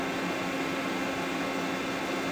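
A WJ1000 high pressure pump runs with a steady, loud, even mechanical hum and hiss that holds constant throughout.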